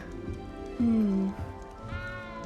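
A cat in the video game Hogwarts Legacy gives a single drawn-out meow partway through, clear above quiet game ambience.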